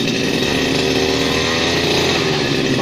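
A two-stroke gasoline grass cutter engine runs at a high, buzzy, steady whine, loud and close with a dense rasping texture and no pauses.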